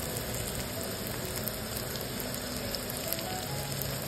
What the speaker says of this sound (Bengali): এরপর পেঁয়াজটা ভাজা হয়ে গেছে, এর মধ্যে আমি আদা, রসুন, কাঁচা লঙ্কার বাটাটা দিয়ে দিচ্ছি।